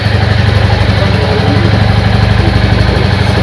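A Royal Enfield Classic 350 motorcycle idles steadily and close up, its single-cylinder engine giving a deep, even low-pitched thump with no talk over it.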